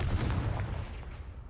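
Explosive Confringo blast spell going off in Hogwarts Legacy, a deep booming burst with a rumbling low-end tail that fades slowly over a second and a half, fairly loud with no voices.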